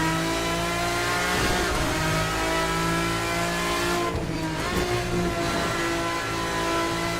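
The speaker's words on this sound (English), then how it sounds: "this car is just freaking crazy sounding" Race car engine in the Assetto Corsa racing game, heard from outside the car: a loud, steady droning engine tone that holds through the whole stretch, with a brief dip and shift in pitch around the middle.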